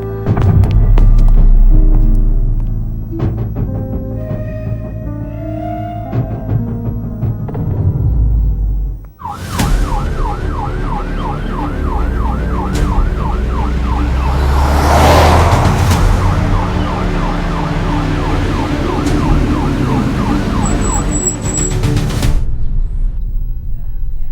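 An ambulance siren wails loud and close in a rapid, repeating rising-and-falling cycle for about twelve seconds, over traffic noise, after a stretch of low rumbling and tonal sounds.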